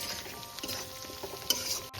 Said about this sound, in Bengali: এবারে এটা আমি ভালো করে একটু ভেজে নেব।